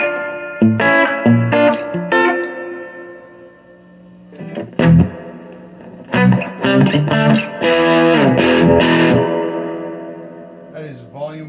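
An electric guitar with Telecaster pickups in a jazz body plays through a Fender Vaporizer amp with reverb turned fully up, bright chords and single notes ringing in bursts with short pauses, the reverb tail fairly subtle.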